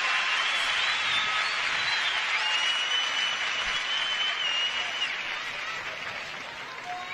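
A huge arena crowd at a karate world championship kata final applauds steadily and loudly, a continuous wash of clapping that holds for several seconds with only a faint voice beneath.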